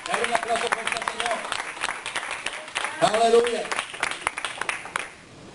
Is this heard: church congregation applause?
yes